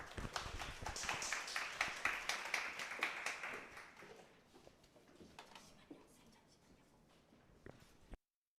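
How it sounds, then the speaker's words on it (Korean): Audience applause at an exam-prep academy information session, a burst of dense clapping that swells, then thins out and trails off into a few scattered claps before stopping. "저희 이론을 담당하고 계시는 어정인 평가사님을 큰 박수로 모시겠습니다."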